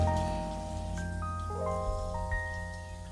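Water runs through hair, rinsing out shampoo, in a soft, steady spatter like light rain, quiet and close, with faint ringing tones above it.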